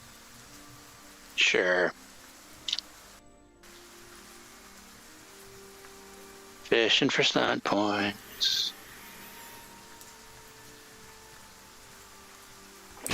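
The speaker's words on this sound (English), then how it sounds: "I can probably turn the rain off too." Steady rain ambience plays as a background loop during a Dragon Age tabletop role-playing session, soft and continuous hiss under a few short bursts of close speech.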